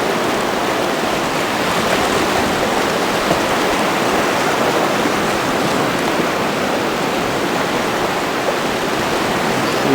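Rapids on the Salmon River rush steadily, a loud, unbroken roar of churning whitewater with no voices.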